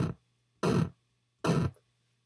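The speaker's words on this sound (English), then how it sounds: "The first sound I'm going to show you how to make is the bass drum sound" An 8-bit bass drum made with the SFXR noise wave in LMMS, three short punchy noise hits evenly spaced, each cutting off cleanly to silence with a faint hum between.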